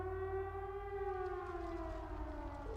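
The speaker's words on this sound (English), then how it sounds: "Oh, I think there's an air raid siren or something." A wailing air raid siren rings out in the Trails of Cold Steel video game, a steady rising and falling tone that holds loud and continuous with no talking over it.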